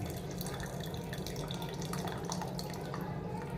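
Water runs and trickles onto raw tamarind in a bowl for huli, a steady close splashing flow with small drips throughout and no talking.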